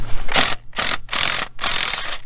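A ratchet wrench loosens a bolt under a Volkswagen GTI, producing four loud, fast clicking bursts separated by short pauses, close up and alone.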